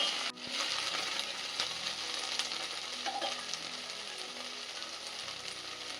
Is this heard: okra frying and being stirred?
yes